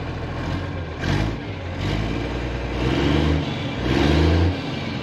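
An International Acco 1850D truck with its exhaust missing runs close by, its raw, rumbling engine idling and then surging through several revs of rising loudness.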